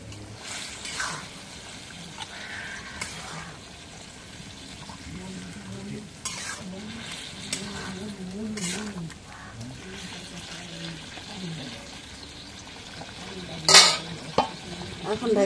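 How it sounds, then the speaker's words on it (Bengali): Meat sizzles as it fries and is stirred in a pan during home cooking for Muharram. The sizzle is steady, with spoon scrapes and soft utensil clinks throughout and a sharper clatter near the end. "এখন মাংসটা দিই।"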